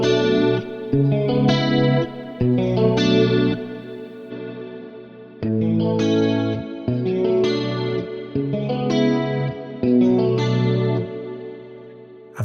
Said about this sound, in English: Rack chorus.